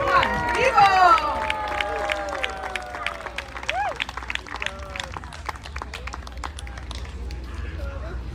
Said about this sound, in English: give another big round of applause